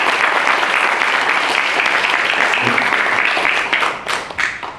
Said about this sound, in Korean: 여러분들 박수 치시고